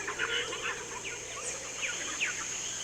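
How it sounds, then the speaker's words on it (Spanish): Morning birdsong drifts through a rainforest as scattered chirps and trills, faint and distant over a steady hiss of insects and ambient hum, with no voices. "podemos escuchar entremezclados los gritos de los monos, trinos de pájaros y reclamos de todo tipo"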